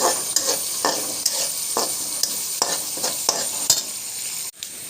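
Onion, green chilli, ginger and curry leaves frying in a pan for upma, a constant bright sizzle broken by repeated sharp scraping stir strokes, ending abruptly.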